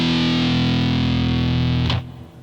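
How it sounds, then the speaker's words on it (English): An electric guitar with heavy metal distortion played on muted strings rings out as one loud, sustained buzzing chord that cuts off abruptly near the end, leaving a quieter tail. "the distortion sounds okay, but when you like play with muted strings"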